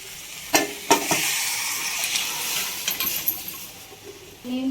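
Chickpeas and their cooking water are tipped into a hot pan with a few sharp clinks at the start, then a steady sizzling hiss that runs through to the end, where a brief knock sounds.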